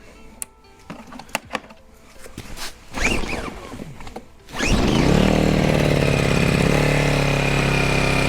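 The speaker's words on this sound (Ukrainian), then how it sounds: "Для початку запускаємо генератор, нехай трішки прогріється" An 850 W inverter generator starts abruptly after some handling noises, then settles into a loud, steady engine hum that continues alone while it warms up.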